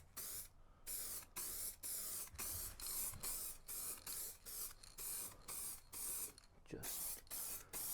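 A light dust coat of spray paint goes onto the woodwork of a 1983 VW T3 Vanagon, heard as a series of close, loud hissing aerosol bursts of about half a second each, separated by short pauses.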